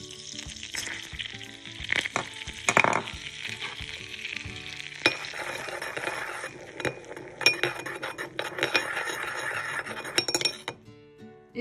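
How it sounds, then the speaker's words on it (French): Paprika sizzles in melted butter in a Cookeo pressure cooker for a red lentil soup, a steady close frying hiss with clinks and stirring knocks of a utensil against the pot throughout, no talking. "On va verser du paprika dans ce beurre."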